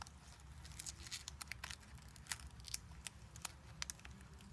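Scotch tape being slid between the keys of a computer keyboard, giving soft, close crinkling and scratchy ticks in an irregular patter over low background hum.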